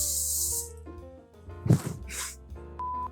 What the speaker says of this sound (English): place them into your pan, which I need to spray with cooking spray.